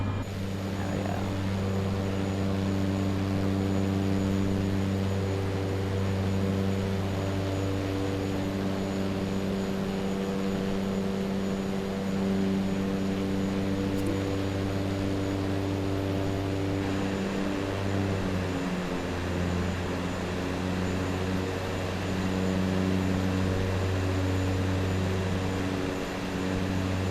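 Steady, loud aircraft engine drone in Microsoft Flight Simulator 2024, a continuous propeller-like hum with strong harmonic tones that shift slightly partway through, heard alone without talk.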